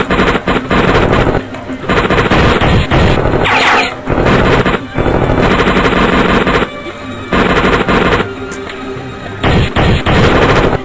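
Automatic gunfire from the video game Kurtlar Vadisi Pusu: loud, dense bursts of rapid shots that keep rattling through the whole stretch, broken by a few short gaps.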